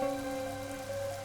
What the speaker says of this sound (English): the rain in our town hasn't stopped falling